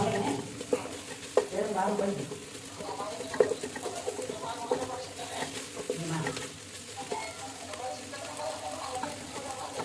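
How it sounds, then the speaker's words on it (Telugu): A tomato and ginger-garlic paste mixture is stirred in a pan for biryani, producing a soft sizzle with irregular spoon scrapes and knocks, and a voice is faintly present at times. "కొంచెం అల్లం వెల్లుల్లి పేస్ట్ కూడా వేసుకొని మిశ్రమాన్ని మొత్తం మంచిగా కలపాలి."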